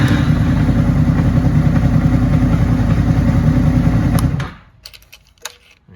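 A Honda VFR800F motorcycle engine idles steadily with a chugging, mid-pitched rumble, then cuts off abruptly, leaving faint clicks and ticks in near silence.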